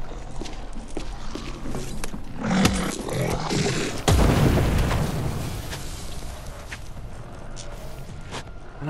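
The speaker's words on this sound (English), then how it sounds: "At least I can throw a pipe bomb." A pipe bomb goes off in Dead Island 2 as a sudden loud boom, preceded by a smaller thud and followed by a long rumbling tail amid game noise, footsteps and growls.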